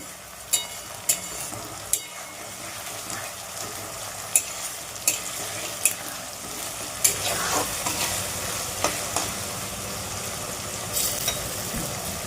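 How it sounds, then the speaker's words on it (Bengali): Tomato stirred and fried in a pan for chicken curry: a continuous low sizzle broken by a dozen sharp scrapes and taps of the spoon against the pan, close and clear. "টমেটোটা এর মধ্যে দিয়ে দিলাম টমেটোটাকে একটু নেড়ে ছেড়ে নেব"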